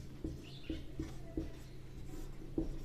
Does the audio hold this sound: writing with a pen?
yes